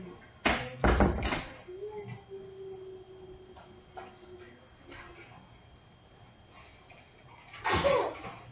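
A sharp sneeze bursts out near the start, followed by quiet room noise and light tapping, then another loud breathy burst near the end.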